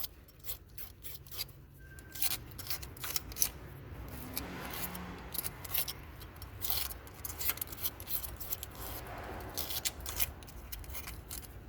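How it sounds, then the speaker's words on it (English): A razor blade gently scraping around a hole on a BMW 3 Series during starter motor work, producing a series of short, faint, uneven scratching strokes with small clicks, close up and without talk. "take the razor blade and gently scrape around the hole"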